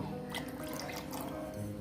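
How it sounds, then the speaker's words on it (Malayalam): Water being poured into buttermilk for a ragi drink, a soft, close trickle with a few faint drips, quiet and short, with no voices. "ഒരു 1/2 ഗ്ലാസ് വെള്ളം കൂടെ ഒഴിച്ചു കൊടുത്തു"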